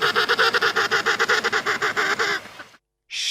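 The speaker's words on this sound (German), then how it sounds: "Das ist eine Ente." A duck call plays in an animal sound guessing game: a rapid run of about twenty nasal, honking quacks in a steady rhythm, loud and close, then a pause and a brief burst of noise.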